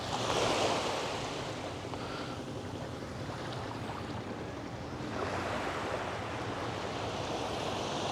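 Surf breaking on a beach of Taliabu island, a steady broadband wash of waves with a louder surge at the start and again midway, close and continuous with no talking.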